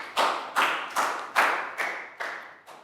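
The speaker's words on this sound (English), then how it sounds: "big round of applause for Nadia." A small school class claps for a pupil with about seven distinct, evenly spaced claps, close and fairly soft, each one followed by a short decay.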